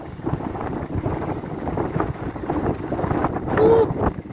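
Strong wind rising before a thunderstorm, a loud continuous rush buffeting the microphone and swelling toward the end, with a brief voice heard faintly through it.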